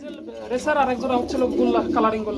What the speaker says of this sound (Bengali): লং ফেস কবুতর দেখতে পাচ্ছেন বন্ধুরা